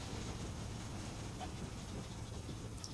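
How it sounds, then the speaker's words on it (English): Rumbling train rolling along steadily in Red Dead Redemption, a continuous low rumble with soft hiss and faint clatter, constant and moderately distant throughout. "And you're just going to follow the train,"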